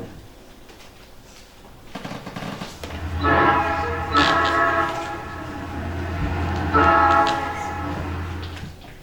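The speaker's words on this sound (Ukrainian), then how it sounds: "Шановні пасажири, наш потяг прибуває на станцію Материнську." An arriving train comes in with a rumbling low drone and a loud horn that sounds twice, spread over several seconds, with faint voices in the background.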